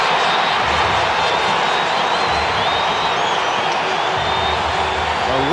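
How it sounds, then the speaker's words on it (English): Big cricket crowd roaring and cheering in a stadium after a boundary, a dense, loud, continuous wall of noise that holds steady from start to finish. "Doesn't the crowd enjoy that?"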